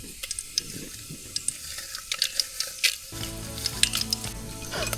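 Whole garam masala spices, including bay leaf, crackle and sizzle in hot oil in a pot outdoors at a hill fort, with scattered popping, then a louder steady frying hiss with scraping stirs.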